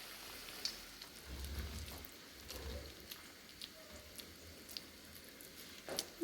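Rice flour vadas fry in hot oil with a soft, steady sizzle and scattered small crackles and pops, fairly quiet and close, with no talking.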